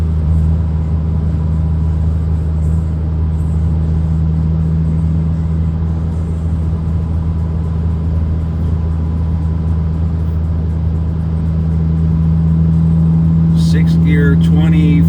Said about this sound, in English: I'm gently putting on the gas to maintain 60.